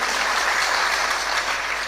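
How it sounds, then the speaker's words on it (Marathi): An audience at a kirtan claps in dense, sustained applause, loud and even from start to finish with no voices above it. "एकदा टाळ्या वाजवा त्यांच्यासाठी"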